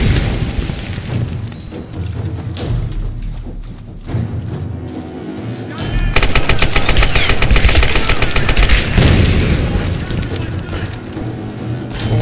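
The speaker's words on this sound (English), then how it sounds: "I got an AK now." AK rifle fire in Tomb Raider: loud, close, rapid automatic bursts with booming impacts, continuous through most of the stretch and heaviest in a dense sustained volley near the middle.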